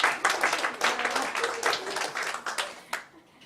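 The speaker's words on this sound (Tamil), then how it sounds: "ஒரு கைத்தட்டல் தரலாம்." An audience at a Tamil literary event held at Chennai Sri Krishna Sweets gives a round of clapping. The individual claps are distinct and fairly close, continuing steadily before thinning out near the end.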